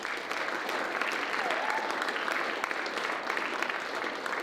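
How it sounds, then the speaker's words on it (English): Steady applause from an audience at a high school football awards ceremony, a dense, continuous patter of clapping that holds evenly throughout without pause. "So please give the Matusik family a round of applause."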